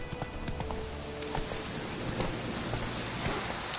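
Roach, the horse in The Witcher 3, gallops with quick rhythmic hoofbeats over a dense, constant bed of rain-like ambient noise, with no break across the stretch.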